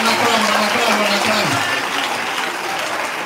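Loud, sustained applause from a church congregation, steady clapping that fills the space and eases slightly toward the end.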